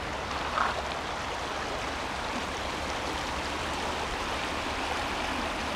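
Water of the Olona river flows in a steady, unbroken rush close to the microphone, a dense even hiss with no talking over it.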